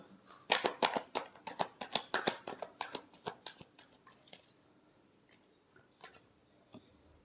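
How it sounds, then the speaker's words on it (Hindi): Tarot cards being shuffled by hand: a dense run of crisp riffling snaps that builds, then thins into a few scattered taps and flicks, close and fairly loud with no talking. "Last shuffle."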